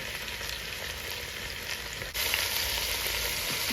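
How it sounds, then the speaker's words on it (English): Chuck roast sears in a hot pan with a loud, steady, dense sizzle throughout, briefly dipping and then resuming slightly stronger, close up with no voices. "sear the flavors into our meat, into our chuck roast"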